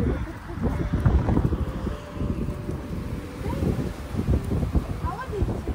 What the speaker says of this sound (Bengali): আজকে হাওয়া দিচ্ছে, হাওয়াটা ঠান্ডা না, তাই না?